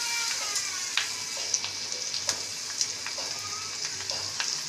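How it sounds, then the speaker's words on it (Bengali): Garlic hitting a pan of fried onions for a Bengali chingri (prawn) rosha sets off a steady, moderately loud sizzle, with small clicks and spatters over the frying. "বন্ধুরা পেঁয়াজটা ভাজা ভাজা হয়ে গেছে, এবার এর মধ্যে দিয়ে দেবো রসুন"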